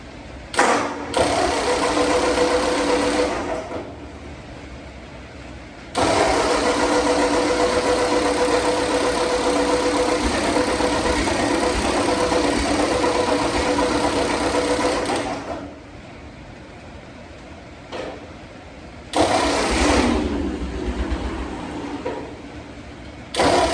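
A Ford 8N tractor engine is cranked over and catches, running in loud, rough bursts separated by pauses before firing again and idling, with no speech.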